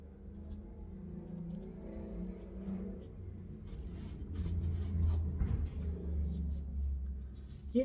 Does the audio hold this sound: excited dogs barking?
no